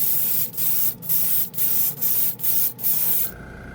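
Chrome paint sprayed from an airbrush in six short, even bursts of loud, close hissing with brief pauses between them, ending in a faint steady hiss.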